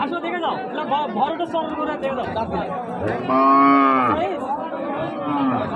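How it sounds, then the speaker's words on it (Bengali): Thin dairy cows from river-island pastures stand at a cattle market. One long, loud moo rises near the middle over constant chatter and bargaining voices from the crowd. "আর এগুলা কিন্তু চরাঞ্চলের গরু"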